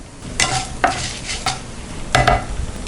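Curry leaves and two dried red chillies frying in oil give a close, crackling sizzle. A few sharp scrapes of a spoon against the pan punctuate it over a few seconds. There is no talk.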